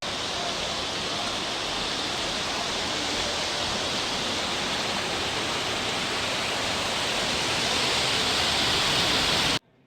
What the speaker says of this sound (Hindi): ये ज़रा पानी की आवाज़ सुने